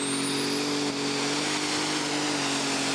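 A methanol-fuelled pulling tractor roars at full power during a tractor pull at the Kirkbride Power Weekend, a loud continuous high-pitched engine whine with a turbine-like scream, sustained without a break.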